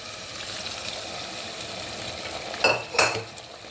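A spoon scrapes and stirs chicken gizzards in a pot after stock is added, a soft simmering hiss underneath and two sharp metallic clinks near the end.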